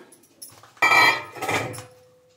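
Chopped fenugreek, spring onion, onion and cabbage stirred together in a bowl for thalipeeth, giving a close, brief clattering scrape in two bursts, the first louder, with no voices.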